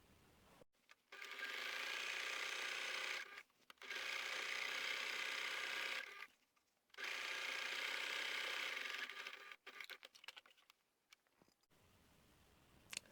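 A sewing machine stitches down the side seam of a laundry bag in three long, even whirring runs with short pauses between, followed by lighter clicks and handling.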